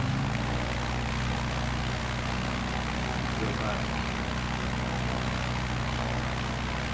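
A small propeller plane drones steadily in flight over Alaska's Inside Passage, heard from inside the cabin as a loud, constant engine hum that does not change.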